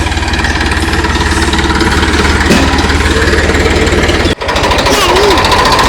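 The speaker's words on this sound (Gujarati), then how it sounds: "ટ્રેક્ટર આવે છે." A loud tractor engine runs steadily nearby, a constant chugging rumble from start to finish with one brief dip near the end.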